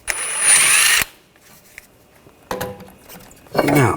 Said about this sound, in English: Take this screw out, use a 6mm hex socket.